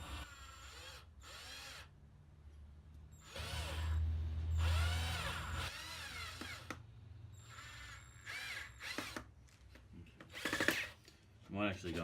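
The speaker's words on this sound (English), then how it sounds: "electric battery operated screwdriver. Alright, hopefully these will bite well enough." A battery-operated electric screwdriver drives screws into anvil brackets in a blacksmith workshop, whirring in several short close bursts separated by pauses, with a person talking between them.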